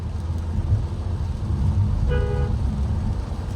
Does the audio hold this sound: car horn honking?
yes